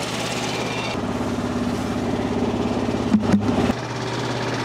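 Tractor engine running steadily at close range while the bucket is dumped, a constant low mechanical drone with a brief clunk and rattle near the end.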